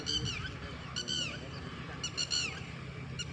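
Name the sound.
bird calling, honking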